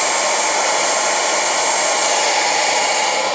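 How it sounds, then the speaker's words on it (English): Hair dryer with a nozzle attached blowing down over hair on a brush, a loud constant close whoosh and motor whine that holds steady throughout with no talk. "Remember, always blow drying down on the hair on your brush."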